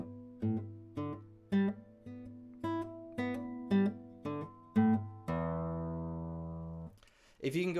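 Bass guitar articulation exercise with short, detached staccato notes stepping up and down across the strings in an even rhythm, then one long sustained note, close and clean, with a brief voice at the end.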